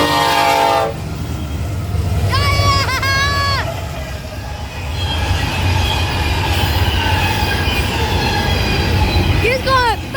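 A fast train roars past at close range, a loud continuous rumble of wheels and cars with a couple of blaring horn blasts, while people talk over it.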